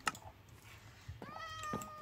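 A cat meows in Minecraft: a short rising-and-falling meow near the end, with a faint click or tap just before, and no talking.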